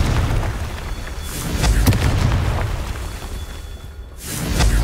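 A Confringo blasting spell erupts in the Hogwarts Legacy video game with booming explosions and whooshing bursts, loud and close, several impacts following one another over a few seconds.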